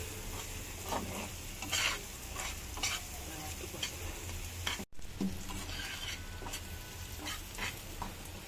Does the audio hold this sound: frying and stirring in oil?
yes